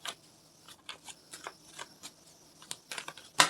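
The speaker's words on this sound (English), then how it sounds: "that's just me not knowing how to shuffle" A deck of tarot cards is shuffled clumsily, producing a string of soft, irregular riffling and slapping bursts, quiet and close, ending with one sharper flutter of cards.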